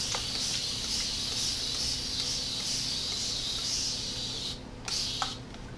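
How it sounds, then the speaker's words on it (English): Short hissing sprays of water from a spray bottle onto hair repeat in a quick steady rhythm, close by, then pause briefly before a few more sprays. "and then flip upside down and spray more water"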